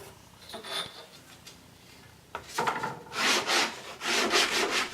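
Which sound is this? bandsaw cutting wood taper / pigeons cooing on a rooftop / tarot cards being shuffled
bandsaw cutting wood taper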